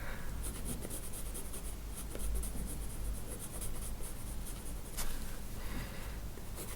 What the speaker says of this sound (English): I'm gonna use my cream pencil on top of the white here